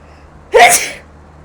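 A single loud sneeze bursts out in one sharp explosive blast, then fades quickly into quiet.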